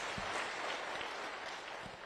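A funeral gathering's audience claps for a man named Bashir, a steady wash of hand claps heard from some distance at moderate volume, with no talk over it.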